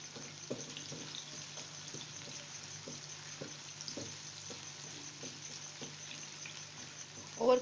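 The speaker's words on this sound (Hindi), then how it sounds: "और अब ये कटी हुई स्लाइसेस में जो प्याज है ये हम इसमें डाल देंगे। हल्का से इसको फ्राई करेंगे।" Sliced onions fry in lightly heated oil for aloo moongre sabzi, a steady soft sizzle with light stirring clicks and scrapes throughout, a louder clatter near the end.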